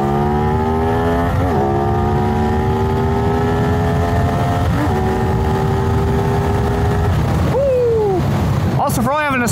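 A CFMOTO 450NK motorcycle launches and accelerates hard on an empty road, its engine note rising through several gear changes, loud and close with wind rush throughout.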